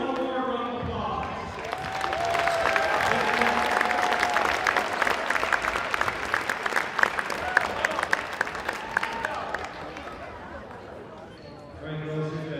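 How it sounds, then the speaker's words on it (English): A crowd at a high school event applauds in a sustained burst of clapping and some cheering, with an announcer speaking briefly before and after. "Two ladies for one more round of applause."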